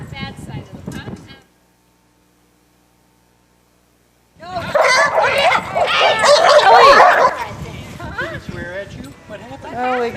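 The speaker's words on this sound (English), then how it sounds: "3 dogs are playing." Three dogs at play let loose a rush of loud, close barks and excited yips. A short burst comes first, then a pause, then a longer, busier stretch of overlapping barking and scuffling.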